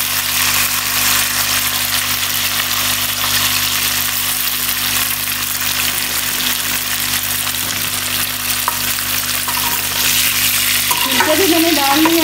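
Food frying in a pan for arvi chicken, a loud, steady close sizzle that runs throughout, with a low hum beneath and some stirring clatter near the end.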